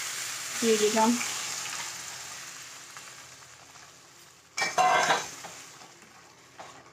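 Boiled bottle gourd and moong dal are tipped into a pan of sizzling fried spices, giving a short sizzle and clatter early on, then a sharp loud hiss when added, fading to a gentle simmer, with a voice speaking briefly.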